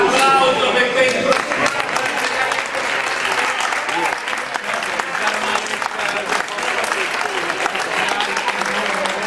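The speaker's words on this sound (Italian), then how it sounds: "Un applauso per questo." An audience claps steadily at a fencing club award ceremony, a dense, continuous wash of applause filling the room with a few voices mixed in.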